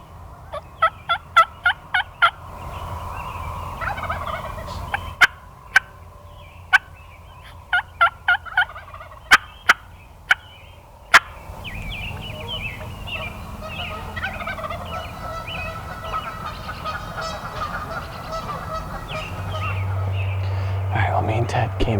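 A wild turkey gobbles repeatedly on South Dakota public land, with rapid rattling bursts heard at a moderate distance and several sharp knocks punctuating the first half, followed by hushed whispering voices.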